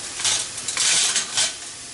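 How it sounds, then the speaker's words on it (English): Chopped leeks and celery tumble into a pan to sauté, several close rattling swishes of pieces against metal with a light sizzle underneath. "We're going to dump in our celery."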